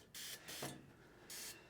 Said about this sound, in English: the 305 is going to be a fine spray nozzle